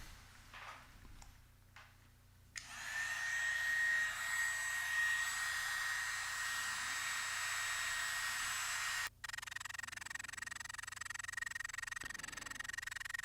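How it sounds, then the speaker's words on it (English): A heat gun is used to heat and flatten a guitar pickguard, switching on with a sudden steady blowing hiss and thin whine that runs for several seconds, cuts off briefly, then resumes, with no talking. "So I grab my heat gun and go at it again."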